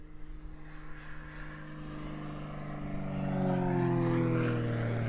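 Several aerobatic aircraft make a streaming takeoff in sequence at a competition airfield, their propeller engines droning faintly in the distance and swelling as the power rises toward the end.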